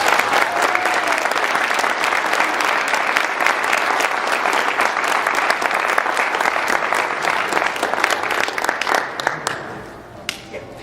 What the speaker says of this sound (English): if we can have one last round of applause for these amazing panelists